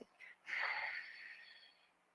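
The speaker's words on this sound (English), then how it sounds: "close your mouth, inhale, and exhale through your nose" A single slow nasal breath, a soft intake followed by a longer airy exhale through the nose, close and quiet with no talking.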